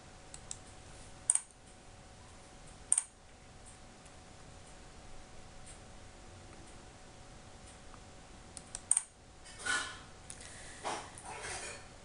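A few sparse, faint key clicks from a computer keyboard as C++ code is typed, spaced seconds apart in a quiet room, with a short flurry of taps near the end.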